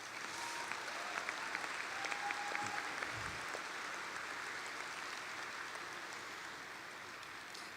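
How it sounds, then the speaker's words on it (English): A large graduation audience at Parkway Central High School applauds teachers and administrators, a dense, even wash of many hands clapping at a distance, sustained throughout with a faint brief tone in the background. "Will you please offer your thanks to them by giving them a round of applause?"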